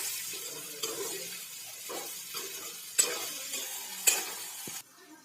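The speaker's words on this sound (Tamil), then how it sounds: "தேவையான தூள் உப்பு போட்டு மறுபடியும் கிண்டி விடலாம்" Ivy gourd sautéing in a pan with salt and spice powder, a steady close sizzle broken by several scraping stirs and sharp spoon knocks against the pan before it cuts off near the end.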